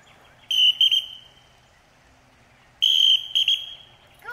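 A dog-training whistle during a basic obedience session gives two high, piercing signals, each made of two or three short blasts, with quiet pauses between them.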